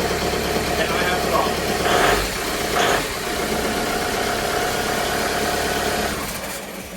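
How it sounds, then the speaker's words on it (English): A diesel truck fitted with an AW4 automatic transmission idles with a steady, knocking rumble and slight vibration, heard up close while a voice talks over it. "So it idles correctly. If you leave it running, the idle comes down"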